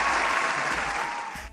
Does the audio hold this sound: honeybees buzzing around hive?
no